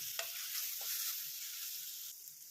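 Chilli powder and coriander powder sizzle and fry steadily in a hot pan, a continuous close crackling hiss with a few soft stirring scrapes, fading slightly toward the end.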